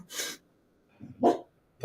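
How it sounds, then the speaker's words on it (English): A dog barks indoors in a room: two or three sharp, close barks separated by brief pauses, with no talking. "The dog was making it hard to focus."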